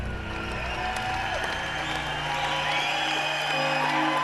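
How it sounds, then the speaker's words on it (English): A large crowd roaring and cheering in acclaim of George Washington as President, a dense, sustained wash of voices and applause at steady loudness for several seconds. "The crowd just roars."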